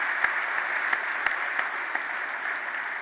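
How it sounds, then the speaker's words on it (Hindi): An audience at a stage program welcomes a guest with sustained, even applause, a continuous bed of clapping with a few sharper claps standing out. "हम जोरदार तालियों से उनका स्वागत करते हैं"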